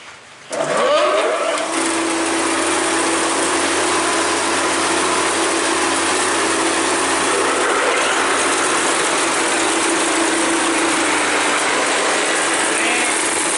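A wood planer machine starts with a rising whir and settles into a loud, steady mechanical drone with a constant hum that continues close by without pause.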